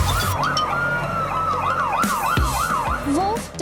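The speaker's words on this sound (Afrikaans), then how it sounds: "dit is 'n brandweerwa." A wailing toy fire truck siren rises and falls repeatedly, loud and fairly close, over a steady rumble of traffic and engine noise.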